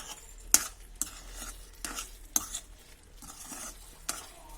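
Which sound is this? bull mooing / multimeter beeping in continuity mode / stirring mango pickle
stirring mango pickle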